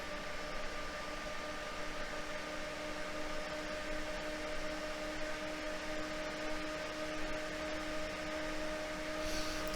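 An NVIDIA RTX 4090 graphics card's fans running at 100% make a steady, loud airy whoosh with faint constant tonal whine. The sound stays even and unbroken throughout, with no talking.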